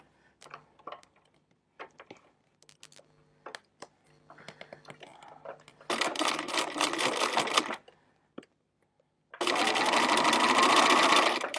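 A sewing machine stitches a quilt block in two loud, rapid bursts of even stitching, each a few seconds long. Earlier there are scattered light clicks and handling sounds, and a voice speaks briefly.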